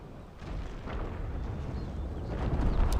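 Rumbling booms of cannon fire in the game Empire: Total War, a dense low roar of artillery with several muffled blasts building in loudness toward the end.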